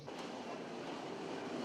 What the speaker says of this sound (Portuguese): É uma pequena locomotiva a vapor que dia após dia faz a manobra dos vagões da via estreita